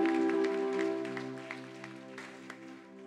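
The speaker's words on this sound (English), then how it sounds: "Give this story a big clap." Scattered claps from a church or event audience after a story sound over a sustained organ or keyboard chord, sparse and faint and fading toward the end.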